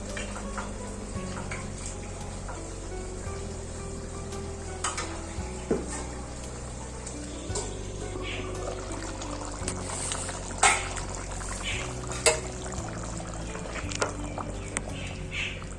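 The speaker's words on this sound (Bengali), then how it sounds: "চল্লিশ মিনিট ধরে মাটনটা সিদ্ধ হচ্ছে।" Mutton simmers in a covered pot, giving a low steady bubbling with faint sizzling and occasional small clinks of the lid or utensils.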